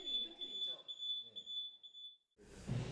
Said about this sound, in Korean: 충격 성능 시험의 불합격을 알리는 경보가 연신 울려댄다